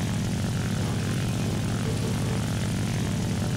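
Propeller engine of an SB2C-1C Helldiver dive bomber in War Thunder arcade, droning steadily and loudly throughout with no pauses and no talk.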